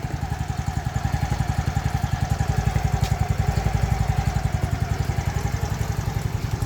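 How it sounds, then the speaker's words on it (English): A Yamaha RayZR 125cc fuel-injected scooter engine idles steadily up close, with a fast, even, low putter and a faint clatter and no talk. "Whenever I start this now, I can feel the load on engine."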